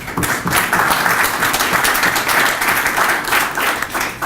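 Dinner audience applauding, a dense steady wash of many hands clapping close by, sustained at an even loudness for several seconds.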